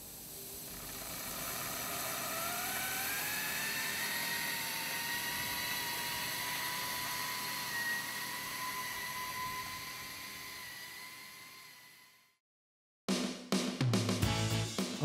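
In Western Australia, a pipeline coving machine with a semi-automated shotcreting head, driven by an oil-free compressor, gives a steady airy hiss with a whine that rises and then holds. The sound fades and cuts out, then brief clattering follows.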